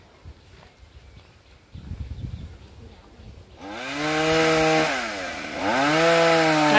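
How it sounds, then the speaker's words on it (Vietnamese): After a few seconds of quiet outdoor rustling, a chainsaw roars to life nearby and revs steadily, rising and dipping in pitch as it cuts through the top of a eucalyptus tree. "Nãy giờ ba của Hoa đợi chú Dũng leo xuống rồi mới cưa nguyên cái phần đọt này."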